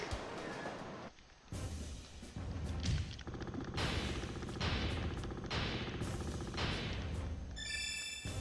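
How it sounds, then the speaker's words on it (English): Missile barrage launched from a warship in Warship Gunner 2, a rapid string of loud launch bursts and booming impacts in uneven succession, dense and continuous over several seconds with game beeps near the end. "I guess we can always do the missile spam thing really quick."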